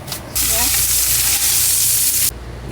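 A loud, sudden sizzle as food hits a hot pan, a steady crackling hiss for about two seconds that cuts off abruptly.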